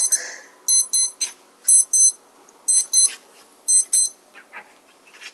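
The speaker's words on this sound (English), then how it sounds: "my watch is going off and I don't remember setting an alarm" Wristwatch alarm going off in repeated high electronic beep bursts, paired chirps in an uneven rhythm, close and sharp against a quiet background.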